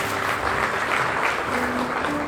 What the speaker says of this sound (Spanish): Dale un aplauso al Rey de Reyes y Señor de Señores.